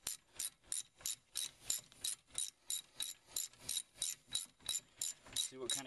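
A ratchet wrench loosens a brake caliper bolt on a car's front wheel, clicking in a steady, even rhythm of about two and a half strokes per second, close and clear with no voices.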